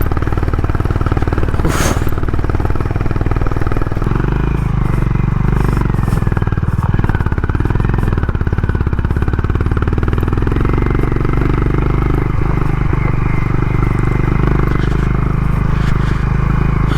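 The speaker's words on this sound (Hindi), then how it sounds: "यहाँ तो चढ़ ही नहीं रही है बाइक एकदम।" A Honda Highness motorcycle labours uphill on a rough, broken mountain road in Spiti Valley, its engine droning loud and steady with rattles and wind buffeting throughout.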